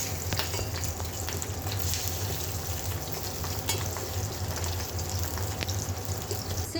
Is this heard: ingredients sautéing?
yes